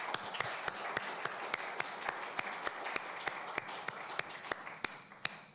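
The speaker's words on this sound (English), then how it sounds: "I would like us all to give a big round of applause for the lecturers" An audience applauds the lecturers at a concluding session of an academic anniversary event. A steady wash of clapping runs throughout, with sharp individual claps standing out at a regular pace.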